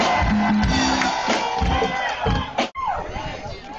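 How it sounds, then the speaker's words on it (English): A crowd at an outdoor rally for jobs and justice in Washington, D.C. cheers and shouts loudly, with whoops and voices rising over one another, a brief cut midway, then the cheering continues at a lower level. "let's give her a round of applause"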